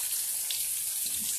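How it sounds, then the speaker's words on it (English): Water from a waterfall at Devils Den State Park pours and splashes in a steady, close, hissing rush with no break. "we could walk right into that waterfall if we wanted to"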